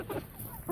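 Chickens, including several roosters, cluck in brief bursts inside a coop, moderately close with low murmuring between calls.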